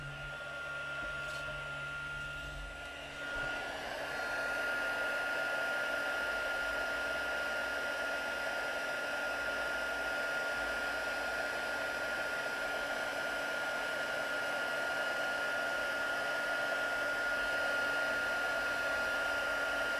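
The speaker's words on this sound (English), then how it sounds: "That's using our heat gun." A heat gun blows steadily, melting embossing powder on a card, with a constant loud, close whir and hum that switches on a few seconds in and runs without a break, no talking.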